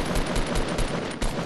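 Loud, close gunfire in the Fortnite video game, a rapid run of about half a dozen punchy shots fired in quick succession.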